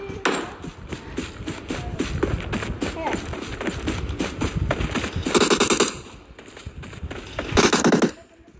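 Gunfire in the mobile battle game PUBG Mobile crackles in dense bursts over footsteps and game noise, with two louder volleys near the end, while players talk over it.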